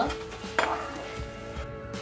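Edible gum puffs up in hot ghee in a pan, giving a soft, continuous sizzle broken by a few clinks and scrapes of a utensil. No one talks, and the whole thing is fairly quiet.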